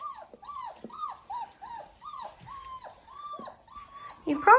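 Several puppies whimper outdoors in the cold, letting out a close, steady series of rising and falling whines that end in a sharper, louder yelp.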